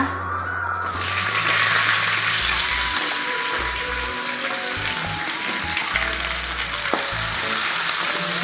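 Onion, green chili, ginger and garlic fry loudly in a pan while semiya kichadi is being made, a steady close hiss and crackle after a brief quieter start, with occasional stirring clinks.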